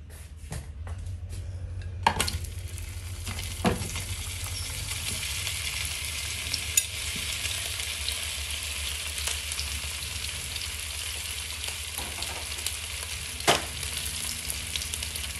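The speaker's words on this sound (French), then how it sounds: "On va faire frire les saucisses." Sausages fry steadily in olive oil in a pan, a constant close sizzle with occasional sharp pops and light utensil clicks throughout.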